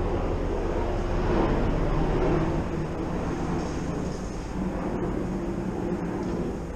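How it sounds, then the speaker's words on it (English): Small nitro-powered RC helicopter engine, a warmed-up unit, running steadily and loud and close after a pull start, with a continuous buzzing drone and no voices. "When it's a warmed up engine, it starts on its first pull."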